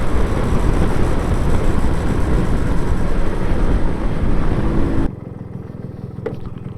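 A 1984 MZ TS125 two-stroke motorcycle runs loud and steady for about five seconds, probably with wind and road noise mixed in, then drops abruptly to a much quieter, even idle close by.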